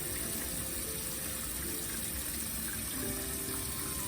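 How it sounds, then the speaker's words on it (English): Cold water running steadily from a sink tap, a faint continuous hissing splash into the basin, unchanging from start to finish with no talking. "the next thing you're going to want to do is turn this water cold. Let it run for a minute"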